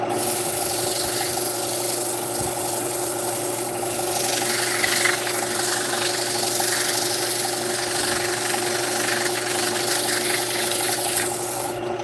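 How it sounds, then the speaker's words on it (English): Steady abrasive sanding hiss rubs against the inside of a wooden bowl over a constant machine hum, continuing evenly without pause. "I'm gonna give the inside of this some sanding and some love."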